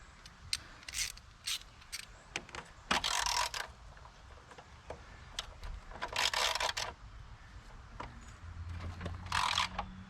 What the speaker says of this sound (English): Breaker bar did seem like it moved it